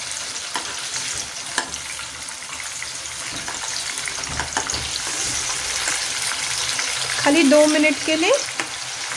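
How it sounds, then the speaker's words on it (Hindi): Chicken frying on high flame, a loud, dense sizzle throughout with stirring sounds and a short spoken phrase near the end. "इसे हाई फ्लेम पे फ्राई करेंगे ताकि चिकन के जो जूसेस है वो उसी में रहें"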